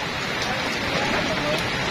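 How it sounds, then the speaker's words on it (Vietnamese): Heavy rain pours down steadily at an outdoor racing event in Can Tho, a dense, loud, unbroken hiss of falling water filling the whole moment without pauses. "Mưa tầm tã."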